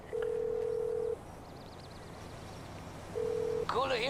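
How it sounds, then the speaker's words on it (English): A phone in GTA Online dials a call: a long steady tone, a warbling ring in between, a second shorter tone, then a burst of chirpy electronic beeps at the end, with faint talk underneath. "request work from Oscar Guzman, or you can come into your phone and you can call Oscar."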